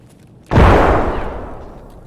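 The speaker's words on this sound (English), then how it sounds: "he threw a grenade?" A grenade goes off in Escape from Tarkov with a sudden loud, close blast that rolls into a long, fading rumble, standing alone with no talk over it.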